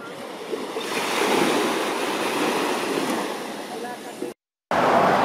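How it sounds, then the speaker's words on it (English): Steady rushing water in Hawaii, like surf or a flowing stream, fills the background with a constant broadband wash, briefly cut off near the end. "And as you can hear, if I ever stop waffling, there is water."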